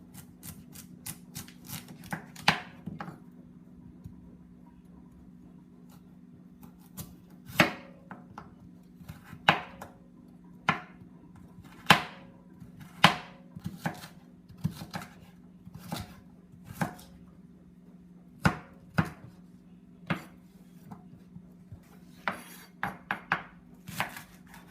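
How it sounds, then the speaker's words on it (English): Knife chopping carrots, potatoes, leeks and celery into fine dice for minestrone, heard as irregular bursts of sharp, close taps on a board over a steady low kitchen hum, with pauses between flurries. "want to chop everything into a fine dice, the carrots, the potatoes, the leeks, celery"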